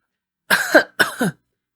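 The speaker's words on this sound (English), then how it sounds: "Achoo!" Two quick explosive sneezes in a row, close and loud, each a sharp burst with a short tail, separated by a brief pause.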